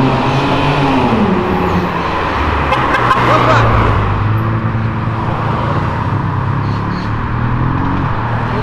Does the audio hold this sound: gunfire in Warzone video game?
no